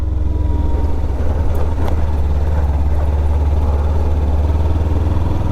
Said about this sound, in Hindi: फुल टैंक आने के बाद आवाज़ ही चेंज हो गई बाइक की